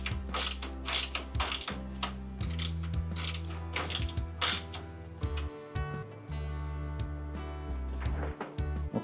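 A ratchet wrench snugs a bolt on a headlight motor gear, its pawl clicking in fast repeated bursts with brief pauses between strokes, close and steady throughout.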